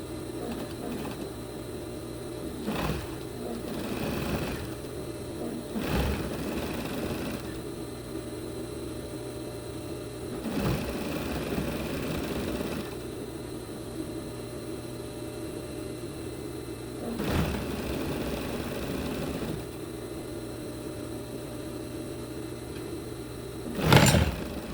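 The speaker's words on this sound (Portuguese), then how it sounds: "normalmente eu não corro muito com o meu overlock" An overlock serger stitching a knit blouse at a moderate pace, a steady close mechanical whir broken by short pauses and restarts, with no talking.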